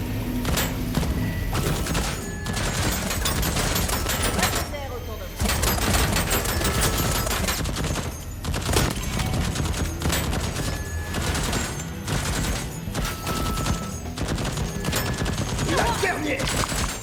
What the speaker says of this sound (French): La tourelle qui m'aide.